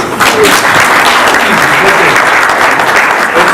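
Loud, dense applause from an audience at a hackathon gathering, many hands clapping steadily and close throughout.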